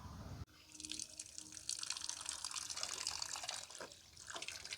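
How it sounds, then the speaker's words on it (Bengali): Fresh, tender neem leaves are washed under running water, with a sudden start into a continuous splashing, trickling flow that stays close and fairly quiet, with occasional drips. "ধুয়ে নিচ্ছি পুরো নিম পাতাগুলো ভালো করে"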